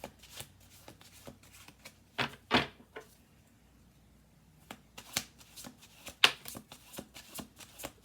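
Tarot cards being shuffled close up in several quick bursts of riffling and snapping, separated by short quiet pauses.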